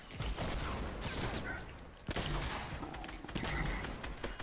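Rapid bursts of gunfire from a shooter video game squad match, dense and loud throughout with repeated volleys and a brief break near the middle.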